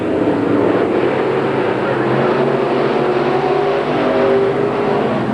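Lightweight ProStock race cars of around 300 to 350 horsepower on high-octane fuel roar steadily together on an oval track in 1989, a loud, continuous, dense engine drone with no break.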